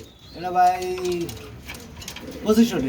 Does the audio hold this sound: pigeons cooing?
yes